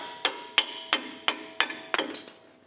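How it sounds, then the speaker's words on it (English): Hammer lightly tapping a bolt out of a Toyota truck's suspension during a lift kit install: seven sharp metallic strikes at an even pace, close by, the last blows quicker and ringing. "We're just going to lightly tap this bolt out of here."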